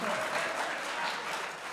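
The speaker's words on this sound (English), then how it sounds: "how about a round of applause for Tristan and Grace, the encouragers, too" A brief burst of dense, continuous applause rises from an audience at a senior violin recital, filling the whole moment without speech.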